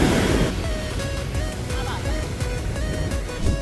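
Ocean waves wash up on a beach on Oahu, Hawaii, a close, continuous rushing surf with some wind buffeting the microphone and a voice speaking over it.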